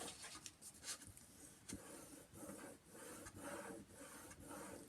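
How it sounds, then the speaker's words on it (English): A folded paper fold for a folio album is burnished with steady rubbing, a continuous close scraping rasp in repeated back-and-forth strokes with short pauses, no talking. "Just give this a really nice burnish"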